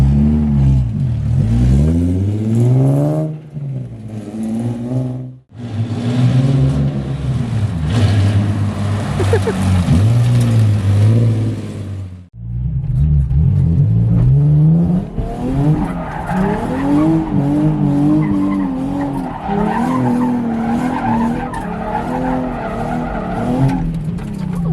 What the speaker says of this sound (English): Just go to burnouts.